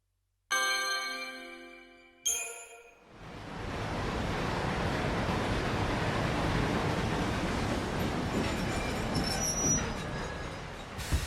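Train ride in the video game Lightning Returns: Final Fantasy XIII: after a brief harmonic chime, a steady loud rushing rumble of the moving train fills the scene, like wind over rails, with faint squeals near the end.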